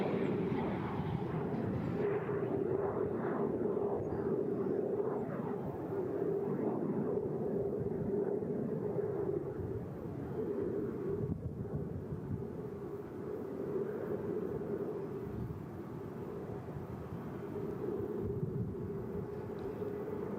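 T-33 jet aircraft at the Selfridge open house and air show, a distant steady jet roar that swells and fades slowly across twenty seconds, fairly faint with outdoor crowd ambience.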